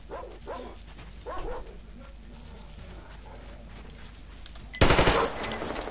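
Game scene in Metro Exodus: a dog barks a few times in the distance, then a sudden loud burst of rapid gunfire breaks out near the end, with mechanical clatter behind.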